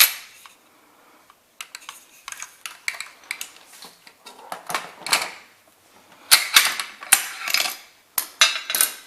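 Metallic clicks, slides and clacks from the action and bolt carrier of a Waffen Werks AK74 rifle being cycled by hand, arriving in irregular close bursts with short quiet gaps and sharper snaps toward the end.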